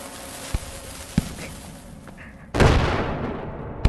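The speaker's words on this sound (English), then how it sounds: "Screw this. I'm using dynamite." Dynamite explodes in the VR game Animal Company: a few sharp pops and cracks, then a loud, close burst that roars and slowly fades.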